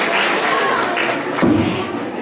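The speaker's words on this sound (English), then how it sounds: "A big round of applause once again." An audience applauding at an Eid and Kerala Piravi community celebration, a steady spread of clapping through the hall with a brief thud partway, a voice talking over it near the end.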